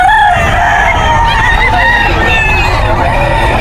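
Roosters and chickens at the Bocaue pet market, loud, close crowing and clucking overlapping continuously amid busy market noise.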